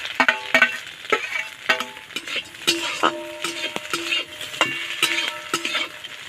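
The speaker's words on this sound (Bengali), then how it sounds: "এখন আমি এই ভাজা কাঁকরোল আবার এর মধ্যে দিয়ে দেবো।" Spiny gourd being stir-fried with crumbled duck egg, a metal spatula scraping and clinking against the pan in a steady irregular rhythm over a soft sizzle, close and fairly loud, with no talking.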